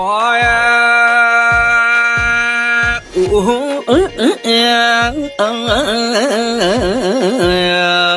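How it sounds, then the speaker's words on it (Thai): A strong solo mor lam singer performs the Thai opening melismatic wail, long and ornamented, over a steady drone with rhythmic plucked accompaniment, close and loud. "เสียงที่ได้ยินเมื่อกี้คือเสียงเอื้อนหาฟ้า"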